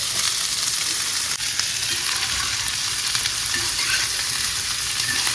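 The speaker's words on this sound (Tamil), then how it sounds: "வெங்காயம், கோவக்காய் எல்லாத்தையும் ஒன்றாவே போட்டு வதக்கலாம்" Onions and ivy gourd sautéing with fennel seeds in a pan, giving a steady, close, crackling sizzle with faint stirring scrapes, unbroken throughout and with no voices.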